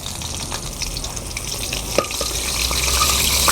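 Ritha fish sizzling in hot oil in a pan, a steady crackling fry with small pops and a few scraping stirs, growing slightly louder toward the end.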